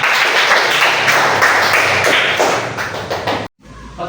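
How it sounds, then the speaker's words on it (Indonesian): A classroom audience claps together for a few seconds, a dense, loud patter of many hands close by that stops abruptly and gives way to a quiet room. "Mari kita beri aplaus untuk kita semua."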